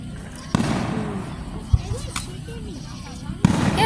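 A fireworks show delivers sharp, fairly close bursts, two strong bangs several seconds apart with smaller crackles between, while people talk over the booms.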